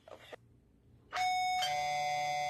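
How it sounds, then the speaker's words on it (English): A doorbell rings loud and close in an animated household scene, sounding two bright sustained chime tones one after the other after a brief bit of background noise. "Oh, the bell is ringing."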